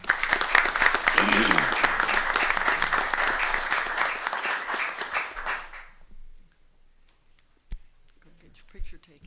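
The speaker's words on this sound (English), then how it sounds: "So one more round of applause" Audience applause fills a city council meeting for about six seconds, steady and fairly loud, then breaks off into near silence with a couple of faint knocks and a short spoken word.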